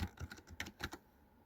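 Keystrokes on an overly sensitive computer keyboard in a small store, about eight distinct clicks tapped in an uneven rhythm up close, then a brief quiet stretch.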